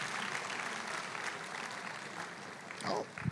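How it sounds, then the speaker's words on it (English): An audience claps in a short, moderate burst of applause that stays fairly even, with a brief voice rising near the end. "Now, that's a good place to clap."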